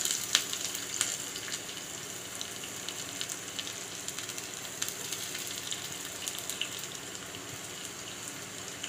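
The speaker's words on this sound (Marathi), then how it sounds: "छान असं परतून घ्यायचं, लसूण" Garlic fries in hot oil with cumin and ajwain in a pan, a soft continuous crackling sizzle with faint scattered pops, heard up close and alone without talk.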